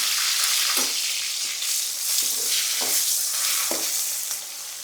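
Cumin, dried red chilies and garlic tempering in hot oil give a loud, bright, continuous sizzle and crackle, with a few soft stirring scrapes and thuds breaking through at intervals.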